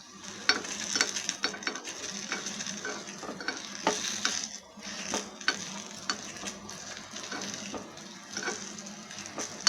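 Litti frying in oil in an appe maker pan as the pieces are turned, with a steady sizzle and crackle punctuated by sharp clicks and scrapes of the flipping utensil, close and clear with no speech.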